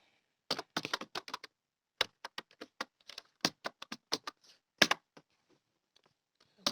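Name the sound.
typing on a computer keyboard, filling in a list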